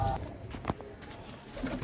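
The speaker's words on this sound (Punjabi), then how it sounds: "ਆਪਾਂ ਲੋਕ ਖੋਲ ਕੇ ਪਹਿਲਾਂ ਆ ਖੁੱਡੇ ਚ ਕਬੂਤਰ ਸਾਰੇ ਬਾਹਰ ਕੱਢ ਲੈਨੇ ਆ" Pigeons in a coop give a few soft, low coos, faint and brief against quiet background noise.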